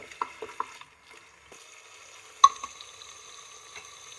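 A spoon stirs and scrapes fenugreek leaves frying in a pan for methi pulao, with a few sharp clinks and scrapes over a faint, soft sizzle and no talking.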